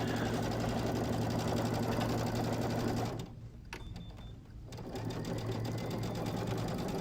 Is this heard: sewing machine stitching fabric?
yes